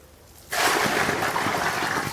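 Milk solution poured onto a tomato bed, a steady close splashing gush of liquid that starts abruptly and keeps running evenly to the end.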